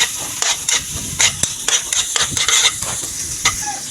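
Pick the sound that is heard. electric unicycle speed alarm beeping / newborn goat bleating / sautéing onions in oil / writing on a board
sautéing onions in oil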